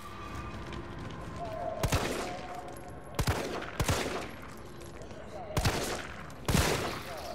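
Gunshots in the Resident Evil 3 demo: about five sharp, loud single shots spaced irregularly, some closely paired, over a low background of game ambience.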